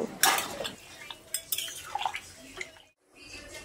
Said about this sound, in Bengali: ভেজে রাখা আলুগুলোকে বেশ খানিকটা জল অ্যাড করে বেশ ভালোভাবে আমরা খানিকক্ষণ নাড়িয়ে চাড়িয়ে নেব